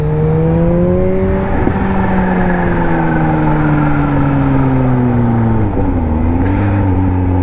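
A Kawasaki Ninja H2 motorcycle engine pulls hard, a loud close droning tone climbing steadily through the gear, dipping briefly near the end as it shifts, with a faint whoosh of wind at the close.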